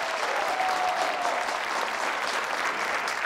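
Studio audience applause on a talk show featuring cyclist Egan Bernal. Dense, even clapping holds at a steady moderate level for a few seconds, with no talk over it.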